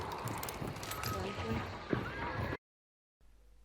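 Rapid hoofbeats of a galloping horse pound under dense game sound effects, then cut to silence and a faint low hum.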